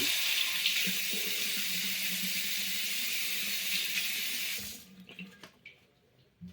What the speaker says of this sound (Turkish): Şimdi bir suyla yıkayacağım bunu.